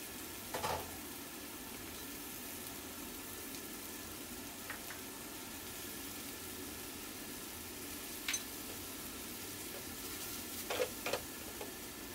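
Edamame, diced chicken, king oyster mushroom and carrot with scallion and ginger stir-fry in an oiled wok, a steady close sizzle with a few scattered clinks and scrapes of the spatula, no talking.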